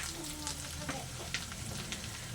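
Ground turmeric, chili, cumin and coriander powders with salt sizzling and frying in hot oil for egg curry, a soft continuous crackle with scattered pops and occasional stirring scrapes.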